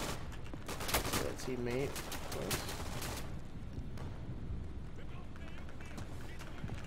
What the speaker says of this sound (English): I can hear the bullets falling, but I don't know where they're falling or where they're coming from